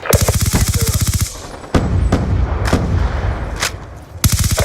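Rapid automatic gunfire from Black Ops 2, loud and close, in two long bursts with single shots and a game announcer's voice in between.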